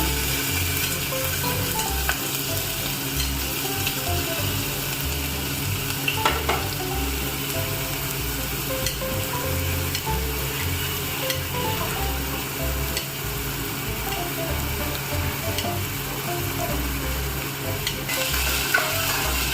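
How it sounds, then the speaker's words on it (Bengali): Chopped garlic and onion fry in hot oil with a loud, dense, continuous sizzle close up, dotted with faint stirring clicks throughout. "তো তার মধ্যে আমি ওই রসুন কুচিটা দিয়ে দিলাম। রসুন আর পেঁয়াজ কুচিটা আমি একসাথে দিয়ে দিলাম।"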